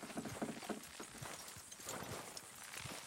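Several horses' hooves clopping in Red Dead Redemption 2, a quiet, steady walking rhythm of overlapping beats over soft background noise.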